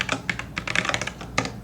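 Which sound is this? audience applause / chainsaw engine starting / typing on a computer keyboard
typing on a computer keyboard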